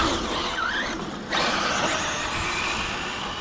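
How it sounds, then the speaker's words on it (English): The electric motor of an Arrma Felony or Kraton RC car whirs and squeals with a brief high-pitched rise, cutting out for a moment before the steady mechanical buzz resumes. "this car sounds so heavy and thunderous."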